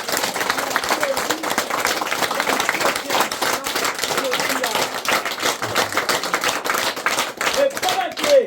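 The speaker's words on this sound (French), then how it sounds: "Je demande avec l'Assemblée son prier de se lever pour applaudir chaleureusement" A standing congregation at a church wedding celebration applauds warmly, continuous close clapping with brief voices mixed in beneath it.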